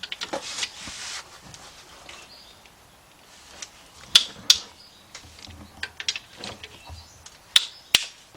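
A ratchet loosens 15mm main bearing cap bolts on a Ford Fiesta engine, giving sharp clicking pawl bursts in several short runs, close and fairly quiet against a faint background.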